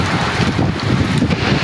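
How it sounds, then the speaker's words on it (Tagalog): Strong typhoon wind roars continuously with heavy buffeting and microphone rumble, a dense steady rush with no talk. "Ala, walang tigil po ang hangin."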